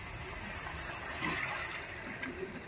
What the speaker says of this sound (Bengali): এইবার আমি একটু জল দিয়ে দেব।